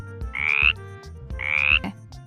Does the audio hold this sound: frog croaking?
yes